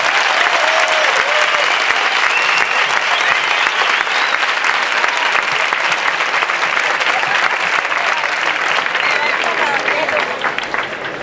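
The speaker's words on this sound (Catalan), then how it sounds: "Una plaça tan viva mereix un fort aplaudiment" A crowd gathered at a 15M general assembly in a town square in Terrassa claps loudly and continuously, a dense wash of applause with faint voices mixed in.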